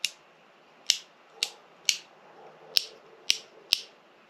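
An old welder's faulty switch or relay gives sharp, dry clicks, about eight of them at irregular intervals, close and crisp over a faint hum.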